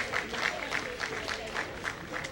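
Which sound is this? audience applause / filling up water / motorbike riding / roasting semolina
audience applause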